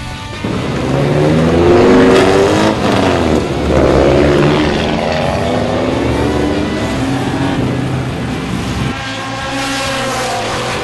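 A race car engine revs on a track from the driver's seat, its tone rising and falling through gear changes, loud and close, with wind rushing over it before it eases near the end.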